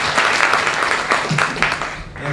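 An audience applauds at a holiday jazz show by a theatre company, a dense, loud burst of clapping close by that holds steady for about two seconds before starting to fade.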